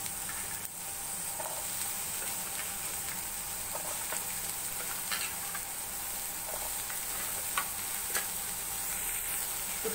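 Beans, carrot and potato sauté with softened onion in a pan for a vegetable stew, a steady moderate sizzle and hiss with occasional faint stirring ticks and no voices.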